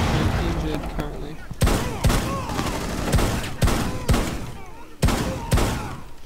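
Repeated gunfire in Rainbow Six Siege during a hostage mission: sharp, loud shots crack out in irregular bursts about every half second to a second, over dense game noise with speech mixed in.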